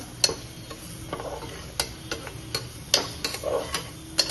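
A spoon stirs besan into misal gravy cooking in a pan, giving a soft sizzle broken by repeated sharp scraping clicks and taps at an uneven pace, close and fairly quiet.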